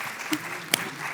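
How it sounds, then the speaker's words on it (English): Brief scattered applause from an audience at a board election forum, a few sharp claps over a steady room murmur, faint and short. "feel free to clap, you can clap."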